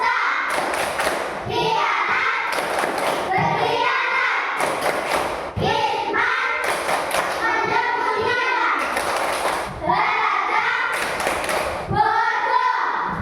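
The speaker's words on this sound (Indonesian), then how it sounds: "Oke, tepuk tangan semua." A school class claps their hands together in repeated bursts of rhythmic clapping separated by short pauses, close and loud in a classroom, with children's voices between the bursts.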